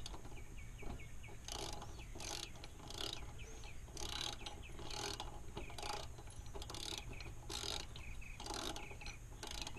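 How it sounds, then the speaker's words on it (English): A hand ratchet tightens bolts during a nerf bar install on a 2011 GMC Sierra 1500 crew cab, giving repeated bursts of quick clicking separated by short pauses, close up against a quiet background. "So, Owen Rowe, please just do it until it snugs, and then what we'll do is we'll tighten the frame and body bolts."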